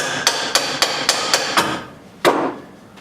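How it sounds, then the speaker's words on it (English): A copper tube is hammered flat in a vise: six sharp metallic hammer strikes in a quick even series, followed by a pause and one final louder blow, close and with no talk. "So just take it, flatten it out on a vise."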